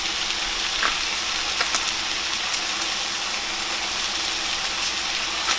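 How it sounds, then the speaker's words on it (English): Green beans sauté in a hot pan, giving a steady, even sizzle with a few faint ticks and clinks, heard alone without any talk. "I'm gonna let the green beans cook, saute for about probably like 5 minutes or so"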